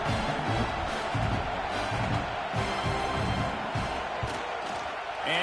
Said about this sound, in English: You can hear this home crowd going bananas